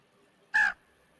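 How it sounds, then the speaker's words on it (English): A single short, harsh caw from a crow rings out in the hunting game theHunter: Call of the Wild, moderately near against quiet ambient woodland background, with no talking. "It sounds like a crow."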